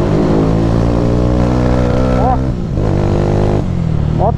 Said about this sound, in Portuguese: Moto dando um pouco de falta, um pouco de excesso. Não tá regulado o carburador.